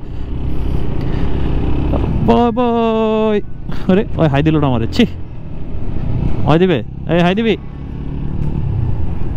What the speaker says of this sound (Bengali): মনে হচ্ছে যে একটা গ্রুপ রাইডে বেরোইছি অনেকগুলো বাইক নিয়ে